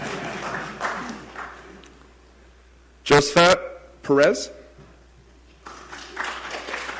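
A town council meeting audience claps for a person whose name is being read out. Moderate, diffuse applause comes at the start and again at the end, with a voice reading a name in between.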